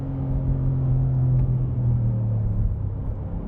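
A supercharged 5.2L V8 in a 2025 Ford F-150 Raptor R pulls hard under acceleration. Heard from inside the cab, a loud, steady low rumble and drone hold throughout without a break.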